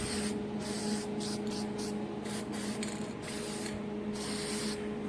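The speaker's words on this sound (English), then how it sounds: "And now let's spray this one." Aerosol spray paint hissing onto a part from a Polaris Sportsman 500 ATV in a workshop: a string of short and longer bursts with brief gaps, close and steady over a faint background hum.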